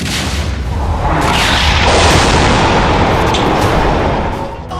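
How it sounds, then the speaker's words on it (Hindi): Bombs exploding in Gaza, a dense, continuous roar of heavy blasts and rumbling booms that fills the whole stretch at high volume, with no voices over it. "गाजा में बम बरस रहे हैं।"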